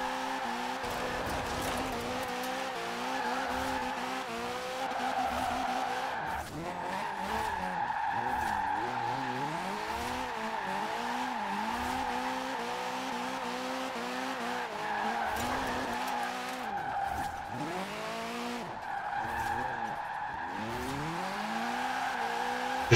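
Car in Forza Horizon 4 drifting with long tire skids and engine revs rising and falling through corners, loud and continuous, no voices.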